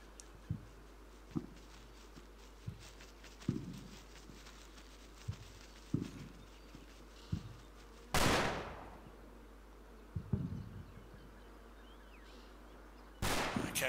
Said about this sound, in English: First shot, someone's firing. Wasn't me, it sounded like a German rifle.